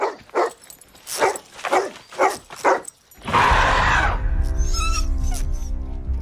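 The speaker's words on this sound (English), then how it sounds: "the family is entering the park with their dog, which starts barking at him" A dog in a park scene of a Planet of the Apes film barks in a rapid, loud series of about six sharp barks, followed by a swelling roar and a dramatic film score.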